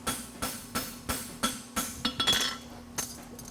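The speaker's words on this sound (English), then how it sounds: "I'm just gonna take the side of my hammer and just push material back into that corner" A blacksmith strikes with the side of a hammer, pushing hot metal back into a corner to flatten it; about ten sharp, ringing metallic blows, spaced fairly evenly then quickening, close and clear with no talk.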